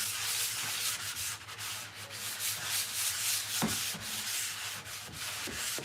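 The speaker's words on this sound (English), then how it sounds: "So I always like to sand them lightly before I do it." Painted furniture being lightly sanded by hand, a steady close rubbing and scraping with strokes of varying pressure, running alone without talk.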